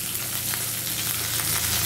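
Spice tempering with dried red chillies, curry leaves and chopped onion sizzles in hot oil for an amaranth-leaf pulusu, a close, steady frying hiss with no talking.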